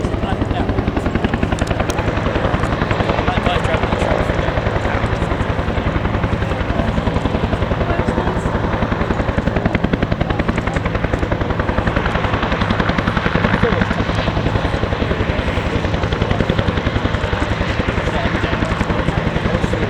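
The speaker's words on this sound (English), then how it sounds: "two helicopters prepare to lift towards the left" A loud, steady helicopter rotor thrum and engine whine fill the air continuously, close by, with no breaks throughout, as two helicopters, including a Huey, lift off at an air show at Duxford airfield.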